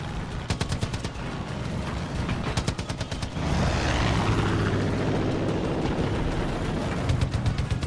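A propeller plane flying in Far Cry 5 drones loudly and steadily, with rapid gunfire bursts rattling over it early on before the engine roar takes over and fills the rest.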